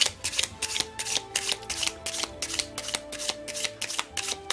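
Vintage tarot cards shuffled and drawn by hand: a steady run of crisp riffling bursts, close and fairly loud, with no talking over it.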